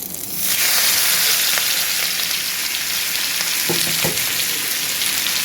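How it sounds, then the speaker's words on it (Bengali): Onions dropped into hot oil in a pan after fish was fried, bursting into a loud, steady sizzle that holds throughout, with a couple of faint stirring knocks midway. "এখন হচ্ছে এই পেঁয়াজগুলো এই গরম তেলে দিয়ে দিব"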